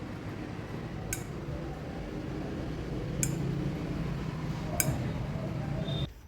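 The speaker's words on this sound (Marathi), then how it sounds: "आता ही गोळी पाण्यात टाकून बघायची" A ball of sesame-jaggery syrup dropped into water gives faint, sharp clicks, three brief ticks spaced a couple of seconds apart over a steady low background hum.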